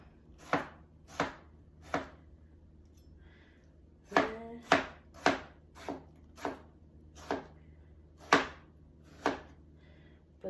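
A rectangular knife chops food for guacamole on a cutting board, giving about a dozen crisp, close knocks at an irregular pace with short pauses between groups, heard alone without talking.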